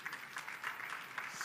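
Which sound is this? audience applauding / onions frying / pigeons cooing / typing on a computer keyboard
audience applauding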